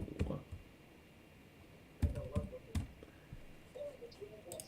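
Keys on a computer keyboard are tapped in short, quiet bursts, a few clicks near the start and a quick cluster of strokes midway, with faint room noise between.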